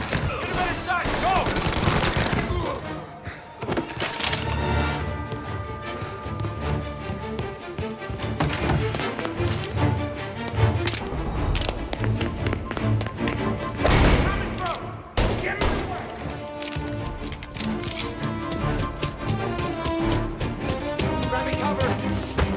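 Dense, sustained gunfire fills the scene in the video game Mafia Definitive Edition, with rapid bursts and heavy thumps layered over a loud, busy game mix, and voices calling out now and then.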